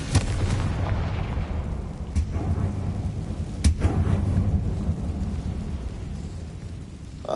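A Confringo fire spell blast in the video game Hogwarts Legacy, heard as a dense, continuous rumbling roar with a couple of sharp louder booms partway through, steady and fairly loud with no talk.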